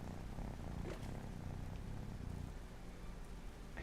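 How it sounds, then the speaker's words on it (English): Kitten purring in the video game Vintage Story, a low, steady rumble that continues throughout, quiet and close, with a light patter faintly in the background. "And you can hear him purring."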